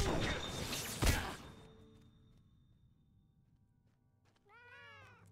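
In the Lord of the Rings Online video game, a cat lets out a clear, rising-and-falling meow near the end, after an earlier burst of whooshing and a dull thunk, with quiet ambience between.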